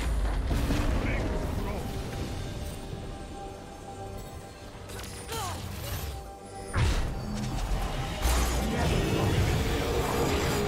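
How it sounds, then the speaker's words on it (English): A turret being destroyed in a League of Legends match, ranked Korean Challenger game with Swain versus Ryze mid: dense crashing blasts and booms over continuous game effects, with the in-game announcer voice speaking throughout. "Red team's turret has been destroyed."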